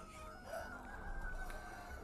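A dense flock of chickens clucks and chatters steadily throughout on a Vietnamese chicken farm, forming a continuous close barnyard din with no talking over it.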